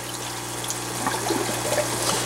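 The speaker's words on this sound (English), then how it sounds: "As I turn that on, you can see the water coming out." Water flows steadily out of a pipe in an aquaponics system, a continuous close trickling and splashing over a constant low pump hum.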